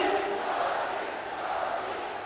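A large rally crowd in Chittorgarh, Mewar, chants and shouts in unison, a dense, steady roar of many voices sustained and loud throughout, with no single speaker standing out.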